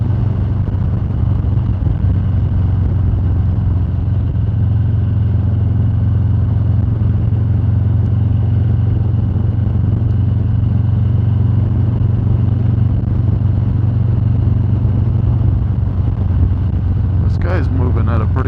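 Motorcycle cruising fast along a New Mexico highway: a loud, steady engine drone mixed with wind rush, continuous and close, with a brief faint tonal chirp near the end.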